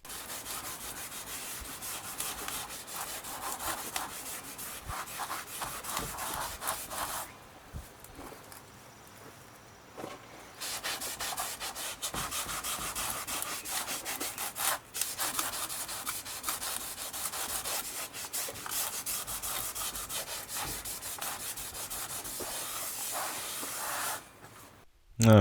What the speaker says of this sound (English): Use 1 rag soaked with it to start with, wipe it on, and then we'll use the other rag here shortly to dry it off.